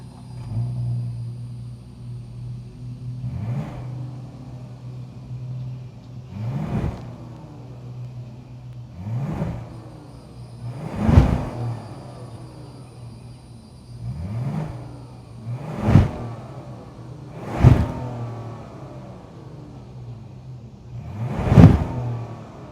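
A 2026 Kia Carnival's naturally aspirated 3.5-liter V6 idles with a steady low rumble, punctuated by repeated throttle blips that rev up and fall back, growing sharper toward the end.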